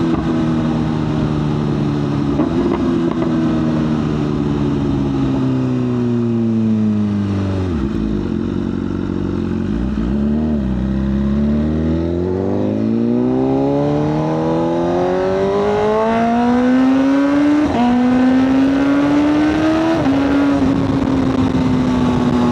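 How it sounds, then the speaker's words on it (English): A 2025 BMW S1000RR with an Arrow exhaust revs and shifts through gears via quick shifter, a loud close engine note rising and falling in sweeping pitch, with a dip and recovery midway and sharp gear changes. "You guys know I love those pops and bangs. Oh my goodness, with the quick shifter, that sounds so good."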